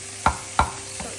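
Finely chopped food is cooked in a pan, heated through before it turns crispy. There is a steady low sizzle, broken by two sharp stirring scrapes close to the microphone.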